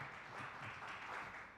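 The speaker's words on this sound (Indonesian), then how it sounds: "Kasih tepuk tangan yang meriah bagi Tuhan Yesus Kristus" A church congregation claps during a Sunday service, giving a short burst of steady, distant applause that fills the room without any speech over it.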